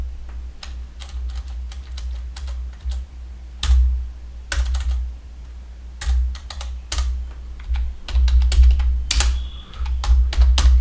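A computer keyboard is typed at close range in bursts of rapid clicking. Heavier key thumps, likely the space or enter keys, punctuate the runs over a low background rumble, and no one speaks.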